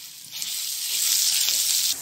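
Cumin seeds with ginger and garlic paste sizzling in hot oil over a medium flame, a steady bright crackling hiss that swells slightly and holds throughout, close and alone with no voices.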